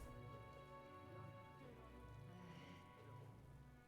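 Rain falling in the video game Metaphor: ReFantazio, a faint, steady patter under soft sustained game music.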